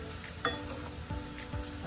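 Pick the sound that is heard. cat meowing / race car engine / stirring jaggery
stirring jaggery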